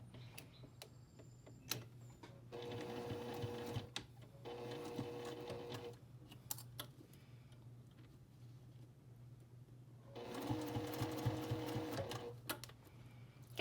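A sewing machine stitching quilt binding runs in three short bursts of rapid mechanical whirring, separated by quiet pauses with small clicks and handling noises, fairly faint and with no voices.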